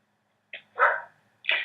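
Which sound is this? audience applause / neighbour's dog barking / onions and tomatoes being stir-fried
neighbour's dog barking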